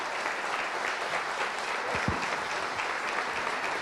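Sustained applause from an audience at a book fair event in Medellín, a dense steady clatter of many clapping hands filling the room at an even level throughout.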